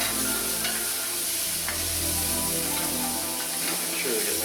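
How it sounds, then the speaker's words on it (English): Beef and mushrooms sizzle and crackle steadily in a stainless steel pan, a constant frying hiss with occasional scrapes of stirring. "I'm using a nice stainless pan because we do want those little crusties from the beef, and we want the crusties that we're getting from the mushrooms."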